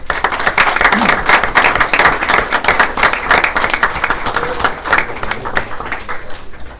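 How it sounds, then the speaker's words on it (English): An audience at a school board meeting gives the coaches a round of applause, a lively burst of many hands clapping at close range that tapers gradually toward the end. "Let's give them a round of applause."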